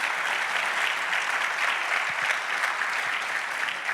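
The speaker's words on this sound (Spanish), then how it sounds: "Un aplauso." Steady applause from a conference audience at a church plenary session honoring the multimedia team, continuous even clapping throughout without speech.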